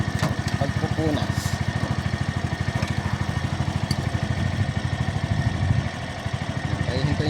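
A motorcycle engine idles steadily at close range during chain cleaning, a dense, even rapid pulsing that holds through the whole stretch with a slight dip near the end.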